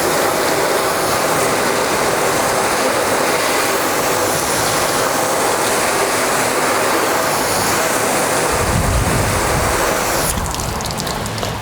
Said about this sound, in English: let's hit it again with the water to see if there's any water beading or anything